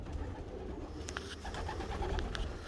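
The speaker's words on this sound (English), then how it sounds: "this hen is one of the smallest, if not the smallest hen that I've got in this loft" Pigeons coo in a loft, soft throaty calls repeating close by over a low murmuring background.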